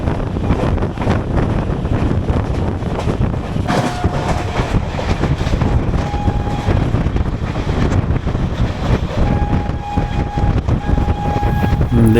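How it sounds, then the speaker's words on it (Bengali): Kolkata–Sairang Express on its first run pulls into Betpadahari station, a steady loud rumble of rolling rail wagons with wind buffeting the microphone and a few brief horn-like tones, continuous throughout with no talk. "ট্রেন কিন্তু বেতপাডাহরি স্টেশনে চলে আসলো"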